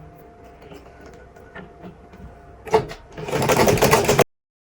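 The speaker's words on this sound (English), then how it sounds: "just sew directly on the line." Fabric for a twist turban runs through a sewing machine, a quiet rustle followed by a short stitch and then a steady, rapid needle chatter close by that stops abruptly.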